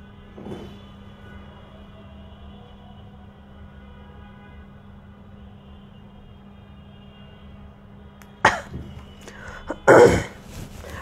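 A person with a cold gives a couple of sharp coughs and throat clearings near the end, loud and close after a long stretch of quiet room hum.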